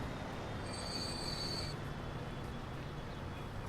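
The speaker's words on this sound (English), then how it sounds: "This is train 60 coming in now." Train arriving at a station in the video game Transport Fever, a steady rumbling rail noise with a high metallic wheel squeal in the first half; no voices.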